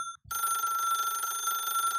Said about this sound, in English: Here's a phone call.